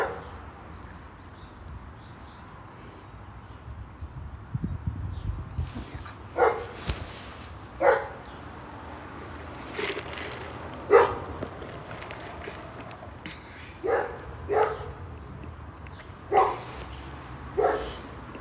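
A dog barks in a series of sharp, spaced barks, roughly a dozen over the stretch, moderately close, with faint low rumbling and background noise between them.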